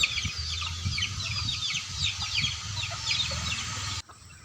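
Two-month-old native country chickens, hatched under a brooding hen on a small home poultry farm, cluck and peep close by in a continuous, busy stream of high chirps and low clucks that cuts off abruptly near the end.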